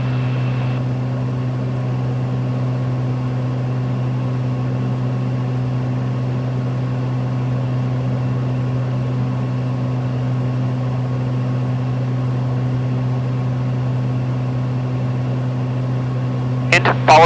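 Steady, unbroken drone of a Lancair Evolution airplane in cruise flight, a constant low engine and propeller hum that holds level throughout, ending in a brief click.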